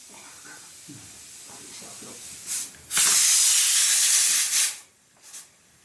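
A pressure cooker in a village kitchen lets out a loud, steady hiss of escaping steam for about two seconds, preceded by a short burst and followed by a brief fainter puff, with quiet talk beforehand.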